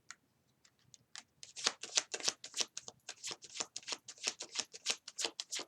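Tarot cards are shuffled and drawn in a quiet room, with rapid crisp riffling flutters and soft slaps repeating close by and no talk.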